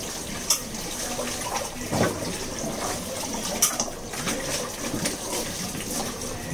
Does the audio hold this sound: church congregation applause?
no